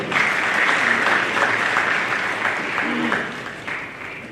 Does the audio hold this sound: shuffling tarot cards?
no